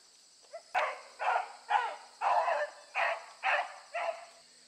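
A beagle barking and whimpering in a steady run of about eight short, whiny yelps, evenly spaced and fairly close, while chasing rabbits.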